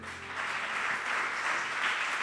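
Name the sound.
applause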